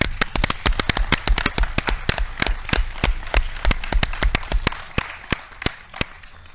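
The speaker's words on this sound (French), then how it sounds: "on peut vous applaudir en tout cas" An audience claps after a special broadcast of a web series, heard as dense, close, crisp clapping with no break, the individual claps sharp and irregular, and no voices over it.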